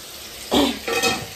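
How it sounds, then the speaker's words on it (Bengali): Chicken sizzles frying in a wok with two short bursts of stirring and scraping, close and fairly loud, no voices. "কড়াইও দিয়েছি, আর এখানে চিকেন বসিয়ে দিয়েছি, চিকেনটা ভেজে নিচ্ছি।"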